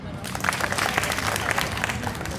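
A crowd at a Republic Day celebration at DIET Gonda applauds a song performance. The close, lively clapping lasts a few seconds with a faint murmur of voices underneath.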